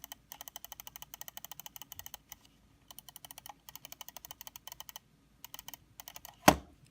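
Side-button switches on a Finalmouse Scream One gaming mouse are clicked rapidly in quick bursts. The sharp, light ticks are spammed in runs with short gaps between them, followed by one louder knock near the end.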